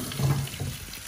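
Infused liquid is poured into a pan of kidney bean dhaal, a brief steady watery splashing and gurgle, close and fairly loud, with no talking.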